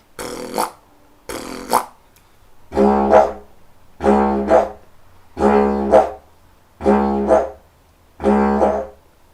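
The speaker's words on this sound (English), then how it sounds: "so that would be a 2-sound rhythmic piece." A Heartland didgeridoo drone broken into short pulses, two quick blasts and then five longer, even puffs, alternating a plain tone with an opened, brighter wah.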